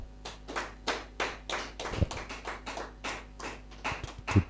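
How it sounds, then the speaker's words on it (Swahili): Church congregation applauding, a steady run of rhythmic hand claps that swell and fade in waves, moderately close, with no talk over them. "Tumpe Bwana sadaka ya makofi."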